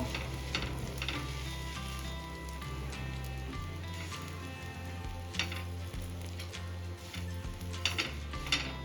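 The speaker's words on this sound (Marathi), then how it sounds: "आता हे पाव यामध्ये ॲड करून घ्यायचे आणि छान शेकून घ्यायचे दोन्ही साईडला" Cut pav bread toasts in a hot pan for masala pav, a steady close sizzle and crackle with occasional scraping stirs and clinks of a utensil against the pan.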